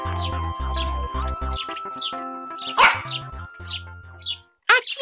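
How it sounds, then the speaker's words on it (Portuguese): A dog barks and yips repeatedly in quick bursts over a cheerful melody, close and fairly clear. "Pop, o cão leal de Mia, foi com elas."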